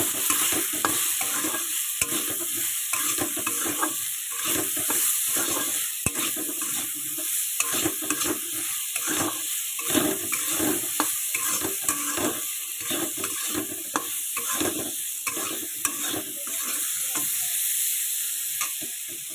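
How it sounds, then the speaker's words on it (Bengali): Potatoes with salt and turmeric frying for a cauliflower-potato curry, stirred continuously: a steady loud sizzle with rapid repeated scraping and clatter of the spoon against the pan, close up and unbroken. "আলুটাকে সুন্দর করে ভাজবো এখন আমি নুন আর এই হলুদ দিয়ে দিয়েছি আলুটাকে ভালো করে না নাড়াচাড়া দিতে হবে"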